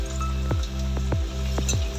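Rice kofta balls are dropped into hot oil over normal heat one at a time. The oil sputters and fizzes continuously, and four separate soft plops land about half a second apart.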